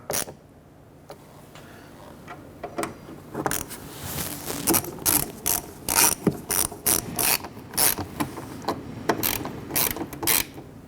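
Ratchet clicking as screws are snugged down on the windshield cowl of a 1997-2006 Jeep Wrangler during weatherstrip seal replacement, a steady series of close, sharp pawl clicks in short bursts with no talk.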